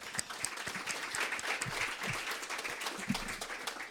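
A small audience applauds a speaker after a talk on eco-friendly 3D printing filaments, with steady, moderately faint clapping and individual sharp claps standing out.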